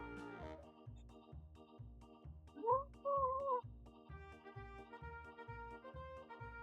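A house cat gives a drawn-out, wavering meow in the middle, set against a steady rhythmic musical backing that pulses throughout.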